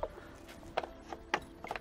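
A swimming pool pump lid is set back in place with a few light plastic clicks and knocks, three or four separate taps spaced about half a second apart over a quiet low hum, fairly close.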